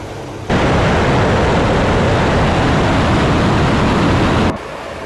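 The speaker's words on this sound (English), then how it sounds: "The first strike came carrying FAB-250 bombs, the explosion shaking the entire area" A FAB-250 aerial bomb dropped by an Su-34 jet explodes in a sudden, extremely loud blast, followed by a sustained, roaring wall of rumble for about four seconds before it cuts off abruptly.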